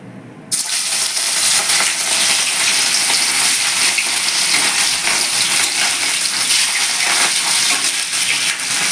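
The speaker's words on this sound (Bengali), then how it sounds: "তেলটা ভালো করে গরম হয়ে গেলে ধোয়া উঠতে শুরু করলে আমি এবার মাছগুলো ভেজে নেব" Pieces of katla fish drop into hot oil salted to stop sticking, and after a brief quiet start a loud, dense sizzle of frying bursts in and holds steady, close up, with no talk.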